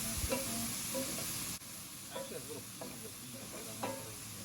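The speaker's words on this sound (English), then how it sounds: "So just keep cooking up those vegetables until you can see the bottom of your pan again" Vegetables and celery sizzle in a pan for pot roast, a bright continuous frying hiss close by, interrupted by a brief dip and punctuated by scraping spoon strokes as they are stirred.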